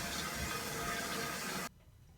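Toilet tank refilling after the supply line is turned back on: a steady, fairly loud hiss of rushing water for about a second and a half, which then stops abruptly.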